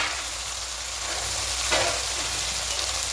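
Green chillies and ginger-chilli paste fry in hot oil in a pan, giving a steady close sizzle throughout with a brief louder spit near the middle.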